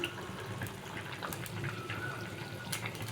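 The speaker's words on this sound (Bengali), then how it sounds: "এবার জল দিয়ে দেবো" Water is poured into a pan of simmering boal fish curry with potatoes, a steady close splashing and gurgling stream that lasts the whole moment without any talk.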